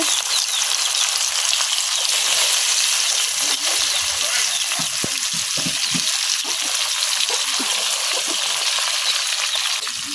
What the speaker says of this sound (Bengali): এখন মাছটি বাজি করার পালা